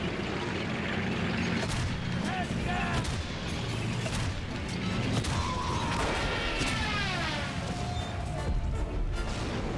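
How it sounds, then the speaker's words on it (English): A male Mark 1 tank fires in Valiant Hearts, with repeated loud booms and crashing blasts mixed with gunfire and whistling shells in a continuous battle din. "Alright, we got our male Mark 1 tank."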